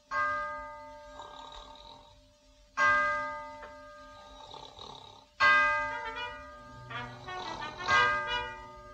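A bell rings out four times at an even, slow pace, each stroke ringing with a long, fading resonance.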